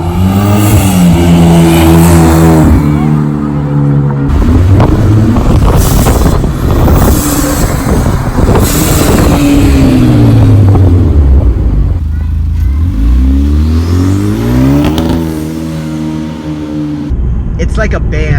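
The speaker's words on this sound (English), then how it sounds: "With the exhaust note, with the turbo spooling, with the blow-off valve, this car, it just sounds amazing" Hyundai Genesis Coupe 2.0T turbocharged engine revving loud and close, with a rising and falling exhaust note, turbo spool and bursts between gear changes, mixed with wind noise over the microphone.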